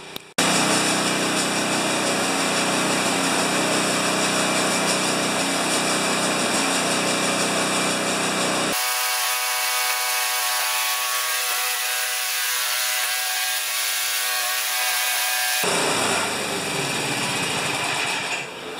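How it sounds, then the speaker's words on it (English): A John Deere TRS 24 snowblower engine runs loud and steady close by, its tone shifting midway to a thinner, higher drone before the full roar returns near the end; no talking. "So the snowblower did fantastic."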